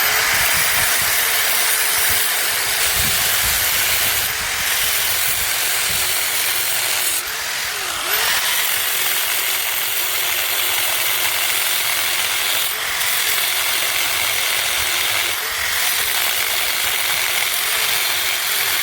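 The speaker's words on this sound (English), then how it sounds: "I'm going to cut down the side of the bolt through the nut, and hopefully we'll be able to spin it off" A cutting tool grinds down the side of a bolt through a nut on a front axle during an International axle strip, a loud continuous harsh rasp with brief pauses and shifts in pitch, heard up close.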